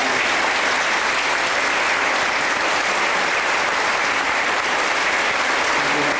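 A school assembly at a Year 12 graduation applauds its graduating leaders with steady, loud clapping from a large crowd that fills the room and lasts throughout.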